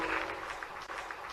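A crowd applauding at a public event in Morena, clapping steadily at moderate distance with a dense, even patter and slight swells.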